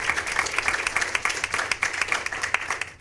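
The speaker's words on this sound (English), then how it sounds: "If we can give them a round of applause for all their hard work." At a school board meeting, people applaud the maintenance department, a brisk, fairly close round of clapping from a modest group, steady and continuous with no talk over it.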